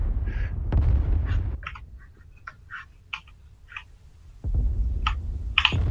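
Aircraft guns fire in a flight combat video game as loud, low, thudding bursts mixed with short sharp pops and chirps, with a quieter stretch between the heavier volleys.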